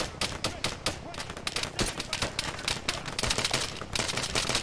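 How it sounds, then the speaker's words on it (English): Dense Arma 3 gunfire crackles in rapid, overlapping bursts, a sustained fusillade of sharp shots at moderate volume with faint voices mixed in. "Okay, we're taking fire."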